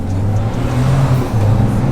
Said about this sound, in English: Nice little Viper right there.